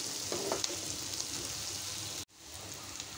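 Crushed green chili and garlic hit a pan of onions frying golden, giving a constant crackling sizzle with a few stirring scrapes before it briefly drops out and resumes, no talking.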